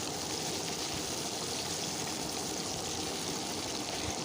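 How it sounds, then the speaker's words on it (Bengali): Thinly sliced onion browns in a pan for a jackfruit curry, making a quiet, even, continuous hiss with no breaks and no voices. "পেঁয়াজটাকে একটু লাল করে ভেজে নেবো"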